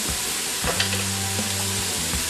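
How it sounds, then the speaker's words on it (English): Shrimp and a spoonful of garlic hit a hot pot for shrimp creole, setting off a loud, steady sizzle with crackling bursts that continue throughout, close up and with no voices. "we're going to go ahead and just dump the shrimp right in here. And we're going to add a little garlic to them."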